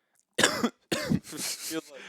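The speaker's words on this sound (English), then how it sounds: "a little bit of a cough" A few sharp coughs and throat-clearing bursts come close together, up close, followed by a short rough exhale.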